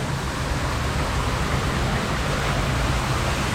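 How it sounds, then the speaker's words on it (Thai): Artificial waterfall at a cafe in Pak Khat, Bueng Kan, pouring as a dense, steady hiss of falling water, close and unbroken throughout with no voices. "ก็จะเหมือนแบบน้ำตกจำลอง"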